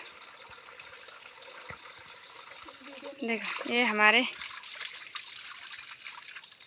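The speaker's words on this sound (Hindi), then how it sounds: "ये प्राकृतिक जल स्रोत हैं गाँव में, हर गांव में रहते हैं। ये देखो ये पानी यहीं से निकलता है।" Water running from a natural spring in a mountain village, a steady nearby trickle heard under a man's speech, with a brief louder splashing burst partway through.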